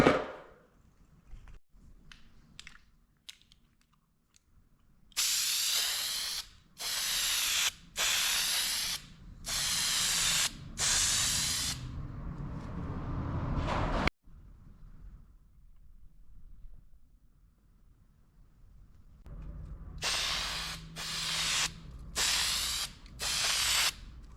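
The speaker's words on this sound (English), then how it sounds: "a zinc spray is great because it's weld through as well" Repeated hissing bursts from a zinc primer aerosol can sprayed on car bodywork, each lasting a second or two with short pauses between, close and loud, with a rattle of the can at the start.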